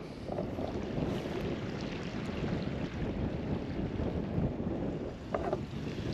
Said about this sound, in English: It's a bit windy, but I can't complain.